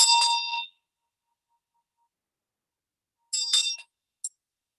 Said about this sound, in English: I play this bell in remembrance.